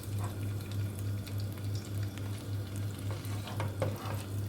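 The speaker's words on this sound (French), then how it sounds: "Et là, je vais laisser dorer pendant 5-6 minutes." Lamb shanks brown in a pan with marinade, a continuous close sizzle and crackle with a low steady hum beneath and a few sharper pops near the end.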